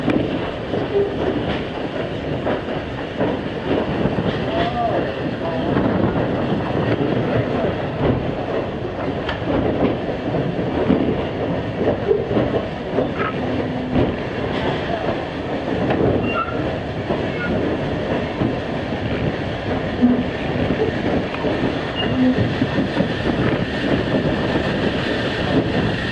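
The East Strasburg Railroad steam locomotive No. 90 pulls a passenger train along the track, giving a steady rolling rumble with rhythmic clickety-clack of wheels on rail joints, heard from inside the cars for a long stretch.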